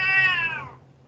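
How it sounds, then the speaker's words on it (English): A single drawn-out cat meow, close and clear, rising then trailing off into quiet. "Sorry, folks, that's my cat. You can hear him."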